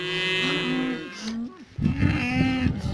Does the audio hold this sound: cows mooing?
yes